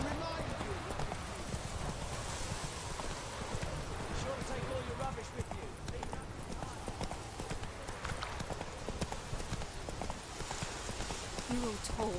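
In The Witcher 3, the horse Roach's hooves clip-clop in a steady, continuous trotting rhythm, close and clear, with speech over parts of it.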